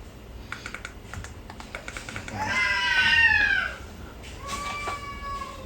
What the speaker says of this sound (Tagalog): Narinig niyo yung pusa?